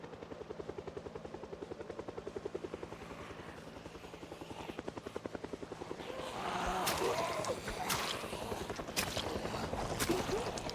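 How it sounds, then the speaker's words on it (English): Steady rhythmic rotor chop of a helicopter flying in the video game Project Zomboid, heard at a moderate distance, with a louder rushing wash and sharp clicks building in the second half. "Okay, helicopter."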